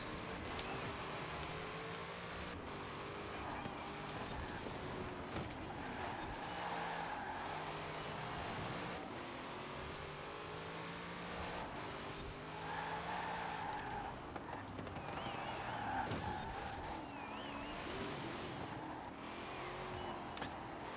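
Racing video game car driving with a steady engine drone and repeated tyre skids and squeals, running continuously at moderate level with no talk over it.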